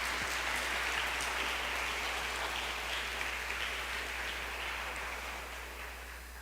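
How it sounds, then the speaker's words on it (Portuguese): A church congregation claps throughout, a dense, steady wash of applause that fades slightly toward the end, over a low constant hum. "Você pode aplaudir ao Senhor?"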